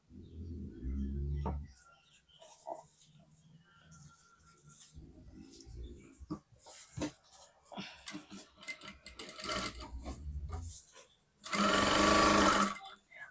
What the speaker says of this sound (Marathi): अंतर एकसारखं ठेवून टीप मारत जायचं आहे.